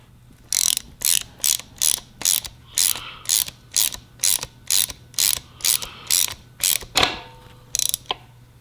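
A hand ratchet clicks in quick, even bursts while tightening the nut on a CAE shifter kit in a 12V VR6 build, about fifteen close, crisp strokes in steady rhythm.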